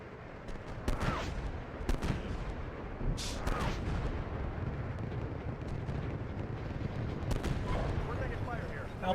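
Repeated gunshots and heavy artillery blasts from the Steel Beasts Pro tank simulator during a winter battle, sharp bursts and booming impacts landing irregularly over a constant rumbling background.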